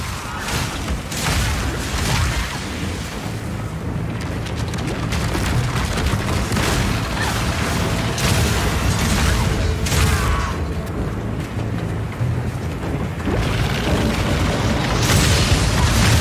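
Crossbow bolts firing in the action RPG Path of Exile 2, permafrost, incendiary and armor-piercing rounds, come as a dense, continuous barrage of booming impacts and bursts with no pauses or talk.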